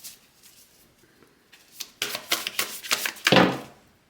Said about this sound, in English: let's shuffle some more cards, see what else that we can get